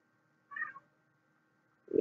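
A domestic cat gives one short, clear meow, followed by a brief thump or rustle close by near the end; otherwise quiet.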